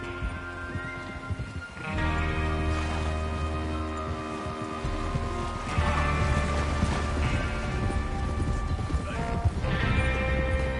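Horse hooves clip-clop in the video game Red Dead Redemption 2, under a steady, droning background hum, with an occasional faint whinny mixed into the sustained tones.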